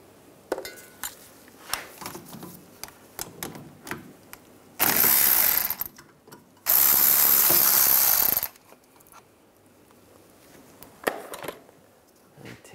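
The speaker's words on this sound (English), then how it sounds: "use a 13 millimeter socket. You can use a pair of pliers to prevent the pins from spinning." Ratchet with a 13 mm socket backing out the rear brake caliper pins on a 1999-2005 Volkswagen Jetta, with scattered close metallic clicks and clanks and two long, loud bursts of dense ratcheting.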